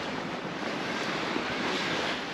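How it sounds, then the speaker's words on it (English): Gentle sea waves washing against the shore at Peguera, Mallorca, a continuous soft roar of surf mixed with wind buffeting the microphone, steady with no voices. "just gentle waves splashing against the shore."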